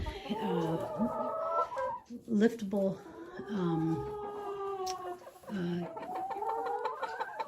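Chickens cluck and warble nearby in overlapping calls in a chicken house while a person talks over them.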